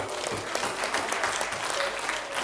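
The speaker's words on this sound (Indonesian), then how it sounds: "Tepuk tangan dulu" A church congregation claps during a sermon: broad, continuous applause from many hands, fairly close and steady throughout with slight swells, no single voice prominent.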